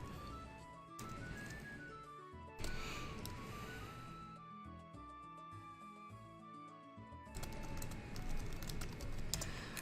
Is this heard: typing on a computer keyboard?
yes